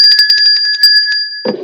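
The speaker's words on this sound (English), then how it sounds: "I will ring the bell, and the bell sounds something like this." A bell rings in a rapid run of bright, steady metallic strikes for over a second, loud and close, then cuts off into a brief low thump at the end.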